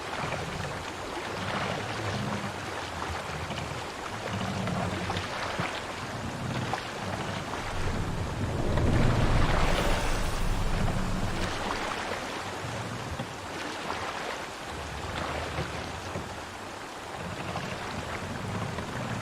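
A Viking ship sails and comes in to dock in Assassin's Creed Valhalla, with a steady rush of wind and water and a swell of wave noise midway.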